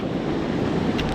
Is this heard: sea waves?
yes